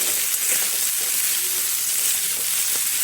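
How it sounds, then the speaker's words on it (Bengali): Maggi noodles stirred with already fried potatoes in a hot pan, giving a steady, close sizzle and hiss with faint scraping, no voices. "এখন ম্যাগিটা দিয়ে দিলাম দিয়ে ভালো করে মিক্স করি"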